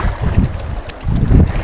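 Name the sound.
huge wave hitting a small boat in wind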